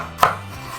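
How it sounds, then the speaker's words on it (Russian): A single sharp knife cut through ginger on a board, one quick crisp chop followed by quiet. "И нарезаем на пластинки."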